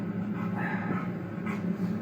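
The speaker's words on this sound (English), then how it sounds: "Is that a dog?" A dog makes soft whimpering yips and low sounds from a disturbing online video, heard continuously over a steady humming background.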